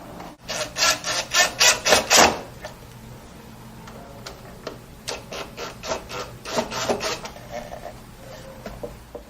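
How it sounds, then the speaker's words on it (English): Screwdriver work driving 3/4 inch flathead screws into a wooden drawer front, with a burst of rapid ratcheting clicks at the start followed by several more spaced runs of short grinding turns, close and clear. "what we're going to do is drive our 3/4 inch flathead screws into these holes"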